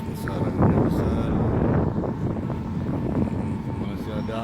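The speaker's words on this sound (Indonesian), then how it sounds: "Dengarkan kan ya suara angin besar, angin besar." Strong wind gusting across Merak harbour on a Saturday afternoon in rough weather, a steady loud rush with buffeting on the microphone and a low rumble underneath.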